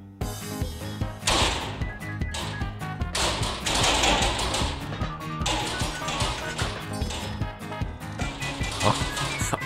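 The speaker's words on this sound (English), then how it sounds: "A chain explosion that is gonna bring a hell into our restaurant." Gas bottles mixed with dynamite detonate in a chain inside a restaurant in the video game Cooking Simulator, a dense, continuous barrage of cracks, bangs and thuds that keeps rolling loud and unbroken for the whole stretch.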